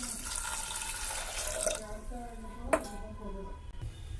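Water is poured into a metal pressure cooker, the tone rising as it fills, with a sharp clink midway and faint background noise.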